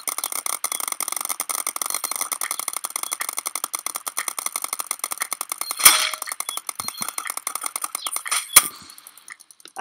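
Paintball gun shooting in steady rapid succession, a long run of sharp even pops with a couple of louder cracks near the end.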